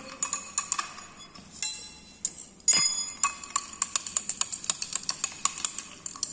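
A shampoo mixture with added sodium citrate is stirred in a glass container, giving repeated close, sharp clinks and taps in a fairly quick, uneven rhythm, with no talk.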